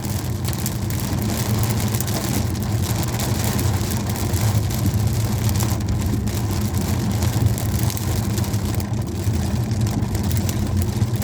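Heavy thunderstorm rain pounds a moving car in Normandy, a dense, steady drumming on the body and roof over a low engine rumble that continues without a break.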